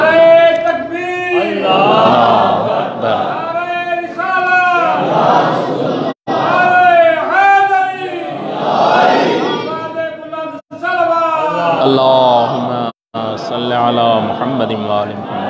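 A crowd at a religious gathering for 27 Rajab answers a leader's slogan call by chanting Allahu Akbar in loud, massed voices, the chants rising in repeated waves broken by short pauses.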